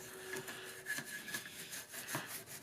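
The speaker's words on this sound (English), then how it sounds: "So once we've got all the cleaner in there, I just like to start scrubbing." Brush scrubbing cleaner into the grooves and crannies of a Mossberg 500 12-gauge pump-action shotgun, a faint, close series of quick rasping strokes in an irregular rhythm.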